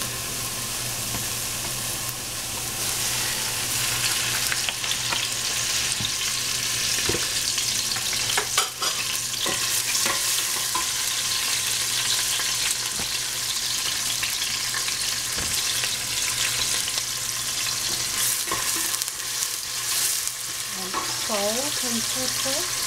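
Chinese broccoli and meat stir-fry in hot cooking oil, a loud, constant sizzle close up, with repeated spatula scrapes and clanks against the pan throughout.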